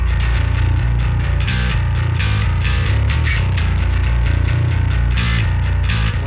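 Heavily distorted bass guitar with a grindy, metallic upper-midrange edge plays loud and continuous, driving a dense metal riff with no talking.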